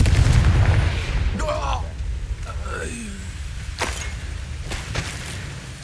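A Confringo blasting spell explodes in Hogwarts Legacy, a booming burst at the start that decays into rumble, followed by whooshing magical effects and a few sharp impacts in a battle scene.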